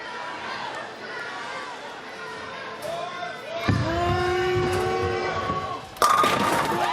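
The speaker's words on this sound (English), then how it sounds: "Somebody in the crowd was yelling more" A spectator yells from the crowd at a PBA Legacy Cup bowling event, a raised voice over steady crowd chatter and arena murmur, with a sharp clatter near the end.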